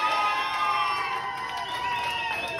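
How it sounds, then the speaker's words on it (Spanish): Crowd cheering and shouting at a costume contest at a karaoke patio, with noisy voices and applause sustained steadily throughout, near and moderately loud. "¡Aplauso para el vampiro fronterizo!"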